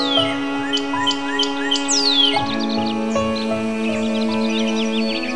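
Birds sing in Bhutan, with repeated high chirps and sweeping whistled calls over a steady background hum.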